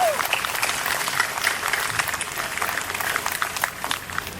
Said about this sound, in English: Can I please have one last round of applause for our sponsors?